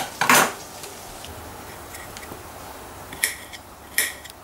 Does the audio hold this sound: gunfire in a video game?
no